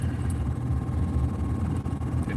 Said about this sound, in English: but we do have the air conditioning running.